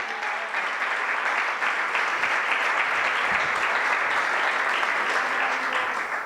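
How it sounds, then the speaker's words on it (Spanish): A crowd claps continuously, a dense wash of applause that holds steady from start to finish with no talking. "Denle un aplauso al Señor en esta mañana"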